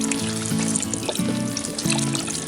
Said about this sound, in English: Pour in some chicken stock.